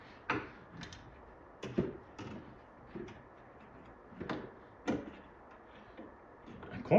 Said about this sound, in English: Might not be able to get the damn control panel open.